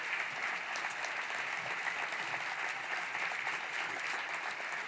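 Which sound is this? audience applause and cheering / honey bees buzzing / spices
audience applause and cheering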